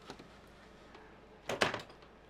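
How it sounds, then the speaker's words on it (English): Door of a camping dome room in Thailand being opened, a faint click followed by a short, louder scraping sweep of the door moving, heard alone in a quiet space. "And opening the door to go inside."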